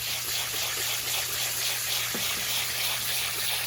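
A pressurised water spray blasts watermelon flesh through a colander screen for seed saving, a loud, continuous hissing gush over a low steady hum, with a brief knock partway through.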